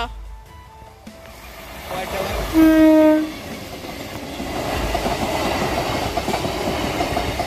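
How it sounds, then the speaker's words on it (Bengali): An early morning train arriving from Jiaganj station in dense fog sounds one loud, sustained horn blast, followed by a rising rumble and clatter of wagons while people talk nearby. "এখন 7:30 ট্রেন আসছে জিয়াগঞ্জ স্টেশন থেকে।"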